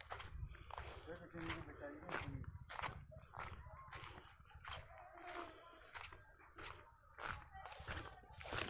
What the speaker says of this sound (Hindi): ये मेरे पैरों की आवाज़ आ रही है।